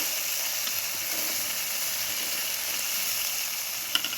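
Milk goes into a hot pan of boiled chickpeas and potatoes, a steady close hiss and sizzle that holds at an even level, ending with a couple of faint clicks.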